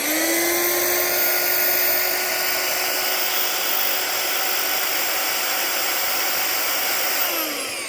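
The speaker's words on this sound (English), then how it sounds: "So let's try my drill." Electric drill running on a narrowboat's 240-volt socket, a steady high whine holding one pitch for several seconds before spinning down at the end, loud and close with no talk.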